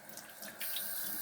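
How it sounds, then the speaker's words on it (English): Water runs from a bathroom faucet at the start of a wet shave, first a light trickle that swells partway through into a steady, close stream. "I turned the faucet on, and normally I drip it before I stick it on there, but there was a stream of water instead."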